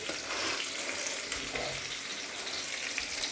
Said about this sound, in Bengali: তো মাছগুলো ভাজা হোক।